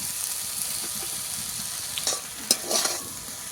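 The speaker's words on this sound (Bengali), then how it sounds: "এইভাবে নেড়ে ছেড়ে একটু ভেজে নেব" Water spinach and fried egg stir-fry in a hot pan with a steady bright sizzle and a few sharp clatters of the spatula near the end, close and without talk.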